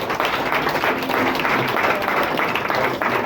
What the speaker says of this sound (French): On acclame encore une fois le Seigneur.